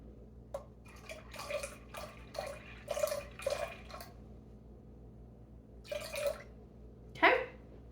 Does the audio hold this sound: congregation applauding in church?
no